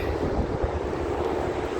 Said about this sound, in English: So we've got a helicopter